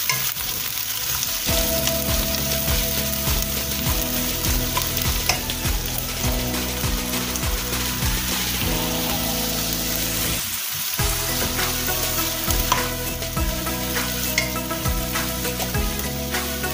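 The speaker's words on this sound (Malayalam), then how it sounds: "ഇത് മൂന്ന് ചെറിയ സവോളയാണ്. ഇതൊന്ന് നമുക്ക് ഇളക്കി കൊടുക്കാം." Three small sliced onions fry and get stirred in a pan, a long steady sizzle broken by repeated spatula scrapes and clinks, with a brief pause midway, close and unvoiced.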